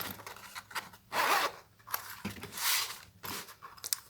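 A zipper pocket on a fabric clutch purse is pulled open and closed several times nearby, raspy bursts of zipping separated by brief pauses and light fabric handling.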